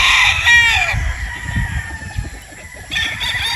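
A gamefowl cockerel crows loudly and close, one long drawn-out call, with another crow starting near the end over a constant background hum.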